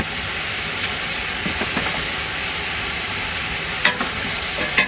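Onions frying in a pan, a constant bright sizzle with occasional scraping stirs and clinks of the utensil, close and steady throughout.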